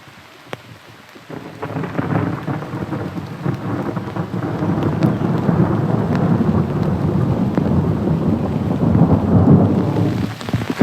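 Steady rain pours onto a flowering peony plant with pink-fuchsia petals and yellow stamens, a dense, close hiss of drops on leaves that thickens after the first second and holds loud throughout, with no voices.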